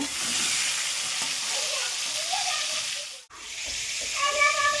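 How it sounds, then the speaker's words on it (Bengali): Potatoes frying in a pan give a continuous close sizzle, broken by one brief pause before it resumes with light stirring. "এবার আমি আলুগুলোকে ভেজে নিব"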